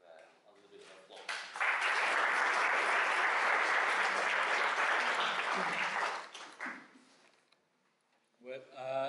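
Audience applause welcoming a professor to a lecture on digital media, a dense steady burst of clapping rising sharply, holding strong for several seconds, then fading out, with a voice starting up right after.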